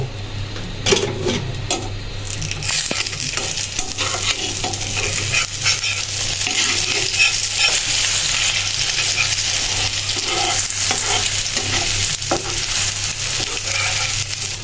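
A soft egg sizzles steadily in a hot frying pan while a utensil scrapes and stirs it, a constant close hiss with scattered light clicks and taps throughout.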